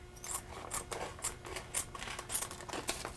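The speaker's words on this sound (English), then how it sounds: "using a pair of scissors," Scissors snip through a heat-sealed plastic ant bait packet, giving several crisp cuts with crinkly plastic rustle in an irregular rhythm. They are close and moderately quiet, with no talking.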